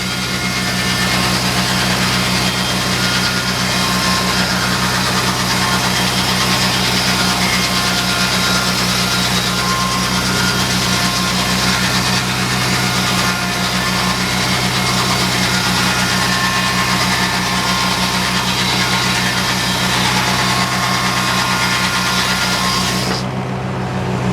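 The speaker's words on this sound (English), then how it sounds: "Well, the tractor's running." A big tractor engine runs at a steady, loud idle-like drone to power a sawmill at an old-fashioned show, a constant heavy rumble with a whining hum that continues without letup until it cuts off near the end.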